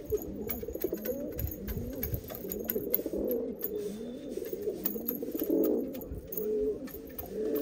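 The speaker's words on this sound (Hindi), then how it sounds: "एकदम ओरिजिनल पुराना नस्ल का कबूतर है" Original old-breed pigeons in a loft coo repeatedly in soft, throaty, rolling calls, several birds overlapping close by.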